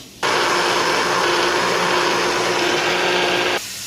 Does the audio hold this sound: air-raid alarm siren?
no